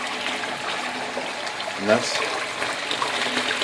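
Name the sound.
water flowing from drain pump setup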